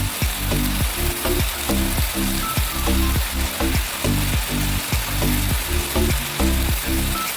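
Meat and vegetables sizzle loudly in a pot as smoked paprika goes in, a steady dense crackle with rhythmic stirring knocks and scrapes throughout, close and continuous.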